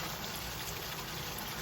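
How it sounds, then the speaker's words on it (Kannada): Water pours into a chicken curry cooking in a pan, a steady close-up rushing gush throughout the short moment with no talking. "ನೀರು ಹಾಕ್ಕೊಳ್ತಾ ಇದ್ದೀನಿ"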